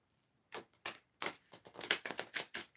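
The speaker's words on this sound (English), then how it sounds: "Let me have a little shuffle in a different way. Let's shuffle them like this." A deck of tarot cards is shuffled by hand, producing a quick series of crisp, close paper flicks and taps after a brief silence.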